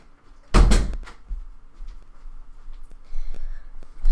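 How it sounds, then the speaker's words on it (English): A single bedroom door swung shut with a sharp thud, followed by faint shuffling and light handling noises in a quiet room; no one speaks. "Let me go close my door."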